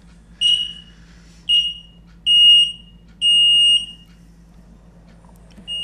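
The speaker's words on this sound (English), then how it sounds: "put high frequency pulse of electricity into a piezo transducer and make a loud buzzing noise" A piezo transducer buzzer sounds in four loud, high-pitched electronic beeps, the later ones held longer, each standing alone with a faint low hum underneath.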